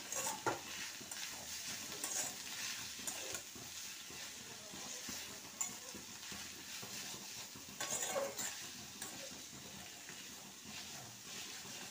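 Spiced chicken mixture with salt and Kashmiri chili powder stirred and frying in a pan, a soft continuous sizzle with scraping and occasional utensil clinks.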